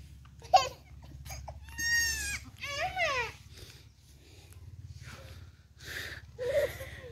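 A newborn baby goat gives several wavering bleats close by, interspersed with soft human voices and small snorting noises.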